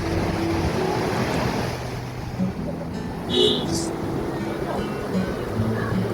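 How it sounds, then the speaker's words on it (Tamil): Sea waves roll in foaming at Chennai's Marina beach on a quiet morning, a continuous surf wash with gusty wind noise buffeting the microphone throughout. "நுரைகளோடு ஒரு அலைகள் சூப்பராக இருக்குது"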